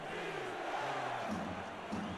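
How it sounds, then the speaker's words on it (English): A stadium crowd at a football game, Denver at Las Vegas, takes up a chant of defense. The sustained, distant roar of many voices holds steady throughout with no clear announcer speech. "Crowd at the stadium takes up a chant of defense."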